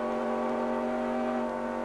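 Terry Byers' Pontiac NASCAR race car engine drones at high, steady revs, a loud sustained buzzing tone with no break over a couple of seconds, no talking.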